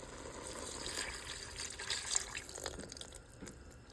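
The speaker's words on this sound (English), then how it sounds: "A little more water." Water being poured into a pot of collard greens with apple cider vinegar, a soft, steady trickle and splash that tapers off toward the end, close by with no talking.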